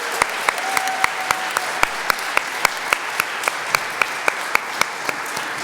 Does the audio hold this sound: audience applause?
yes